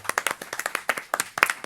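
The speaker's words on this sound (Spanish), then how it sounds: "va a ser Rosalía Reyes, así que por favor un fuerte aplauso." A small audience at a book presentation gives light applause, sparse separate hand claps in an uneven patter that stays fairly close and modest in volume.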